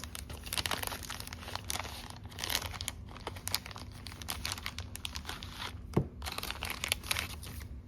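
Crinkly grab bag of mini gift enclosure cards being handled up close, with continuous plastic crinkling and rustling and a sharper crunch near the end.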